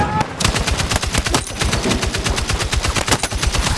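An M60 machine gun in a video game fires a long, rapid, continuous burst of loud, evenly spaced shots.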